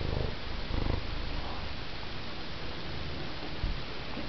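A big, fat cat purring softly and continuously up close, a low rhythmic rumble with faint rustling and no talking.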